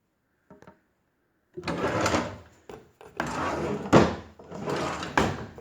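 A wooden drawer slides open and shut several times, scraping and thudding in short bursts close by.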